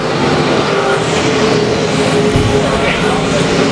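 Race cars at a weekly dirt-track A-Main event run single file around the oval, a loud continuous engine roar that stays steady throughout, with some voice mixed in underneath.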